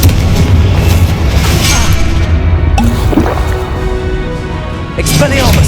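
A Confringo blasting spell fires in Hogwarts Legacy amid a Gryffindor duel, loud booming impacts and crashes thumping over a dense battle din, with a voice shouting over it.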